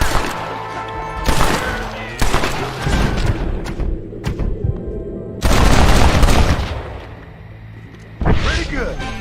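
Covering gunfire in the Red Dead Redemption game, with loud bursts of shots and booming thuds coming in several heavy volleys separated by brief lulls.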